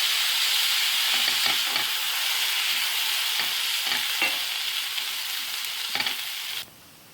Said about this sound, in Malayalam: ഇനി ഇതിലേക്ക് നമുക്ക് 2 ടേബിൾ സ്പൂൺ സോയാ സോസ് ഒഴിച്ച് കൊടുക്കാം.